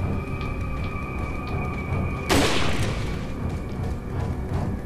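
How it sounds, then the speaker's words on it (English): A single loud rifle shot in the Resident Evil 4 video game cracks out sharply near the middle of the clip, over a steady hum of game ambience. "I'm gonna shoot him one more time"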